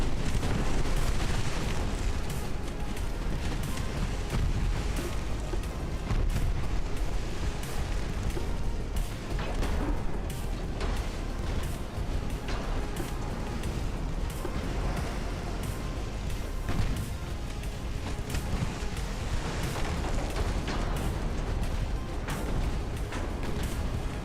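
A naval battle in the video game Ultimate Admiral: Dreadnoughts, set in 1902, where a torpedo strikes an enemy ship: loud, continuous rumbling explosions and booming blasts keep coming for the whole stretch, dense and unbroken, with no one talking.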